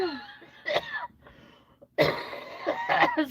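Coughing right after laughter during a New Year's livestream aboard a narrowboat: a burst of harsh, wet coughs and laughing near the mic, a short pause, then a longer run of loud, close coughs.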